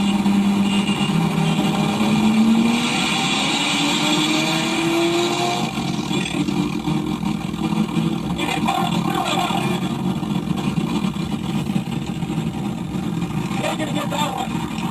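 A single-turbo street car on stock fuel races on the road, its engine droning loudly and climbing in pitch through the gears, with a second car alongside and steady wind and road noise.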